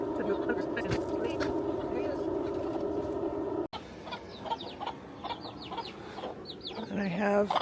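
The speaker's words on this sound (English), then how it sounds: "The first thing I do is I come over and I let the chickens out." Chickens being let out of their coop at sunrise on a ranch cluck and call steadily, with rustling and other farmyard noises around them and a brief break partway through.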